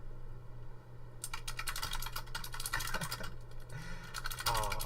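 Loud, close computer keyboard typing with rapid irregular key clicks and mouse clicks, starting after a quiet first second and continuing steadily over a low background hum.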